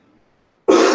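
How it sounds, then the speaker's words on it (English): A single short, loud throat clearing bursts out suddenly after near silence, close to the microphone. "I got to clear my throat real quick"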